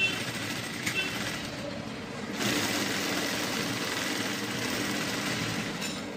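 A sewing machine stitches a blouse in a steady, continuous mechanical whir that lasts the whole time, close and moderately loud, with no talking.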